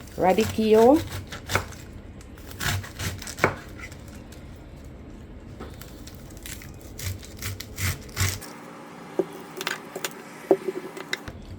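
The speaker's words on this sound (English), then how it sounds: "We're gonna slice up the cucumber, slice up the radicchio" Knife chopping cucumber and radicchio on a cutting board for a juice, a run of steady knocks and scrapes with a voice speaking over the first part.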